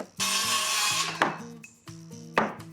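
A hammer strikes wood framing in a basement renovation, with two or three sharp, close impacts cutting through a steady rasping, sawing-like tool noise and a low, humming drone.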